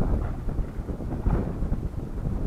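Wind gusts buffet the microphone beside the Desna River, a low, rumbling roar that swells and dips steadily with no voices.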